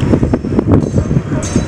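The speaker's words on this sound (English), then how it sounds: "hopefully you can hear me over the wind" Strong wind buffets the microphone outdoors at a snowy convention, with rumbling gusts throughout and a voice talking over it.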